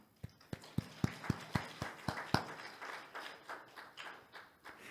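A church congregation claps during a Sunday service, a run of sharp, evenly spaced single claps in a steady rhythm that loosens into softer, more scattered claps; fairly faint overall.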